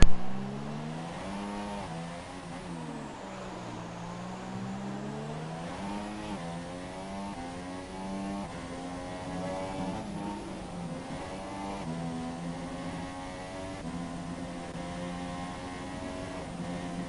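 A race car engine drones through a lap of the Mexico circuit in a racing video game, its pitch sweeping up and down through gear changes and corners, steady and loud, with no talking.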